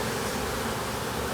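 Honeybees swarm over the rim of an overflowing hive, their steady dense buzz filling the air at moderate level, with one short sharp click near the end.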